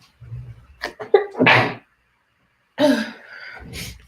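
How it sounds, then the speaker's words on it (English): A single close sneeze, with a sharp inhale building into a loud burst, followed by a brief breathy vocal sound. "I'm about to sneeze."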